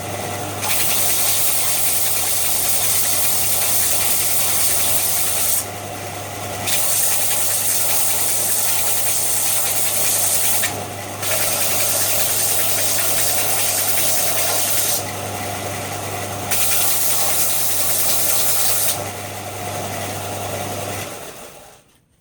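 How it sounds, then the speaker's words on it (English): A power sander squares up a block of wood with a continuous loud whirring hum and a gritty, abrasive hiss that swells and drops each time the block is pressed against it and lifted off. "I'm going to just square it up a little on the sander."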